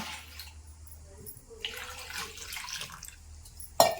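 Water pours into a pot of wild raival mangoes for boiling in a soft, running stream, with a sharp clatter near the end.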